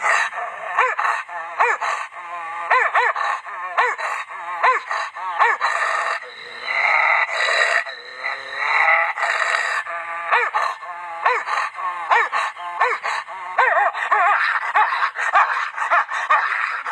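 A human voice imitates two dogs growling and fighting, with dense snarls, yelps and barks coming in rapid bursts, close and loud and continuing throughout.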